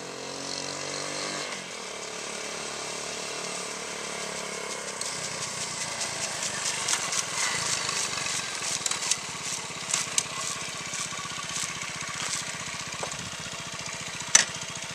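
A 1970 Honda CT70H four-speed motorbike starts and then runs steadily, its small engine giving a close, continuous buzzing idle with a few revs and one sharp knock near the end.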